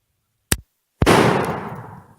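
A single sharp rifle shot from a 1902 Rolling Block or M1891 Carcano at an outdoor range, preceded by a brief short click, followed by a long rolling echo that slowly fades.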